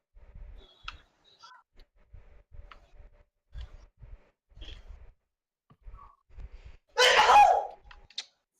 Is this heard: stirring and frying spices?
no